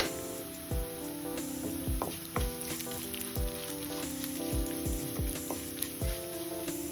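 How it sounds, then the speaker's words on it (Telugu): Coriander, fenugreek, mustard and cumin seeds frying in a little oil in a kadai, a bright close sizzle dotted with repeated sharp pops and crackles all the way through, with no talking. "ముందుగా కడాయి పెట్టుకొని కొద్దిగా ఆయిల్ వేసి ధనియాలు 1 స్పూను, పావు స్పూన్ మెంతులు, ఆవాలు 1 స్పూను, జీలకర్ర 1 స్పూను వేసేసుకోవాలి."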